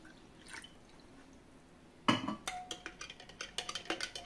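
Homemade mango juice pulp being mixed with water: a few soft drips at first, then a sudden splash of liquid poured in, followed by a run of wet clinks and sloshes as it is stirred, close and fairly quiet.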